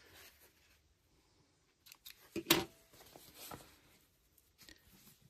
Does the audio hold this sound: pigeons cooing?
no